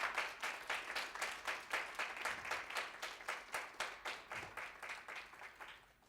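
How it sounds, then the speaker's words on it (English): Audience applause closing a presentation on disabilities as ways of knowing, heard as a quiet round of steady, evenly paced claps. The claps run near-rhythmically for about six seconds. "So a big warm round of applause for Ms. Nora Johnsen, everybody."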